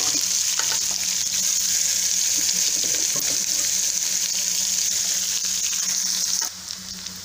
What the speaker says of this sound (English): Give them one stir, and now I'm going to be adding the onions.